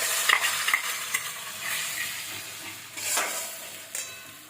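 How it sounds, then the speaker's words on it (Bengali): Spice masala fries in a hot kadai on high gas for stuffed pointed gourd dorma, sizzling loudly with scraping stir strokes that surge at the start and again around the middle. "কড়াইটা তেতে গেছে। এরপর আমি মশলাটা দিয়ে দেবো।"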